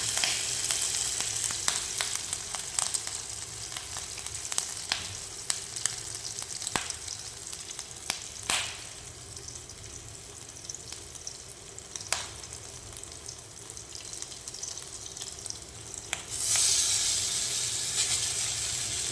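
Mutton keema kebabs sizzle and crackle in hot oil, a continuous frying hiss with scattered sharp pops and spits that swells louder near the end, with no talking.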